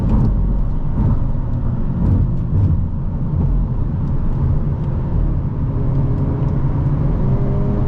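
2025 Hyundai Elantra N with a dual-clutch transmission drives out of a turn, its engine giving a steady, loud rumble from inside the cabin with no pauses.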